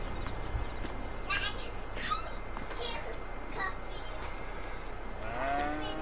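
Cows moo in the farming video game Farming Simulator 22, with a few drawn-out lowing calls over a steady ambient farm background, moderately quiet and somewhat distant.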